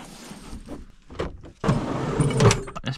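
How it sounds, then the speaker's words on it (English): A truck's door is shut during a night of camping on an airfield: a solid thud and rattle near the end, with shuffling and movement sounds inside the cab before it. "Shut the door."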